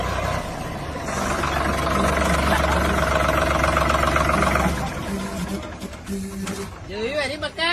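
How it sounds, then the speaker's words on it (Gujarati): A tractor engine runs steadily with a low, continuous rumble for about five seconds, then fades into a quieter, more varied background while people talk over it. "ટ્રેક્ટર લઈને આવ્યો છે"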